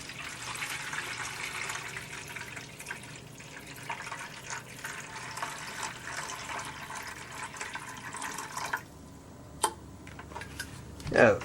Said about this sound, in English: So, we'll fill this with water